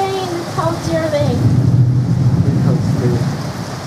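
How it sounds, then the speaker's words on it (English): Heavy rain from a thunderstorm pours steadily throughout, a dense hiss with a low rumble, while voices talk over it. "It is raining a lot here."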